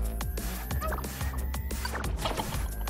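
A chicken in the video game Wand Wars clucks and squawks repeatedly in short, rhythmic bursts, loud and close, with game sounds layered underneath.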